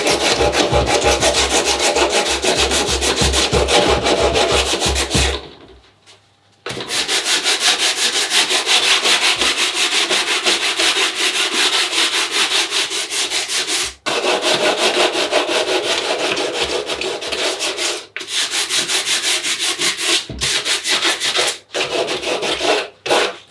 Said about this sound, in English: Now we'll just finish it by hand. 60 grit, 80 grit and 120. Start off with a 60 grit.